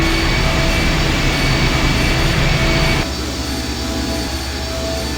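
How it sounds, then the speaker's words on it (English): A machine's engine in the point-and-click adventure game I Have No Mouth, and I Must Scream starts up as a loud, steady low roar and hum, then drops to a quieter, softer drone after a few seconds, with no voices. "The engine's starting up again."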